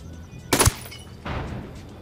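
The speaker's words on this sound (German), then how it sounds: "Ich habe auf irgendwen geschossen." Gunfire in the tactical shooter video game Ghost Recon Wildlands, one sharp loud crack followed after a pause by a softer, longer burst or blast trailing off, with no talk.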